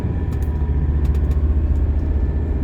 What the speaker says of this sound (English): I'm just gonna take it easy till the engine warms up.